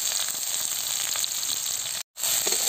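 Chilies, curry leaves, mustard seeds and onion fry in hot oil for semolina upma, an even close sizzle with small crackles, briefly cut to silence near the end before resuming.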